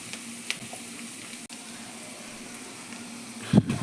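Onions and nuts fry in a pan for aval upma, a steady close sizzle throughout that swells into a louder burst of crackling and clatter near the end.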